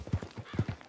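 Horse hooves clip-clopping in Red Dead Redemption 2, a quick run of close, distinct thuds in an uneven galloping rhythm, loud and clear with no talk over them.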